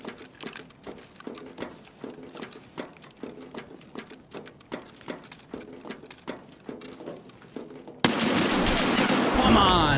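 Rapid bursts of automatic gunfire ring out in the video game Escape from Tarkov, shots popping in a steady rhythm at moderate distance for several seconds before a loud, dense wash of noise takes over.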